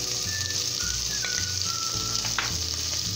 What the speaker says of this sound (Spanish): Y seguimos dorando y friendo nuestros ají.